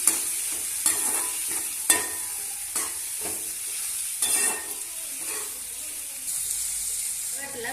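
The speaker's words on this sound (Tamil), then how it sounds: "இந்த கருவாட்டை நம்ம இன்னைக்கு எண்ணெயிலேயே தான் வதக்க போறோம்" Dried anchovy fish fries in hot oil for a spicy dry fish fry, with a steady sizzle and hiss broken by regular scraping clicks of a spatula stirring the pan, close and continuous, without talk.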